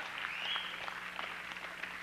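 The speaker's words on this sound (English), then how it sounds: "clap loud" A church congregation claps during a sermon, a steady wash of many hands with scattered sharper slaps, fairly soft and distant throughout the two seconds.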